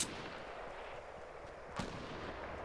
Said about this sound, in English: I think those are my teammates shooting that are making all that noise